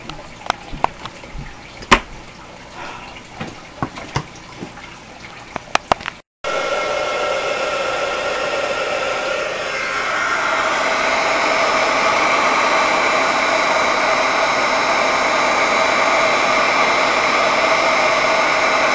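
A heat gun used to melt embossing powder on polymer clay roars as a steady, loud blowing hiss. It starts after some scattered clicks and handling noises, then grows slightly stronger partway through.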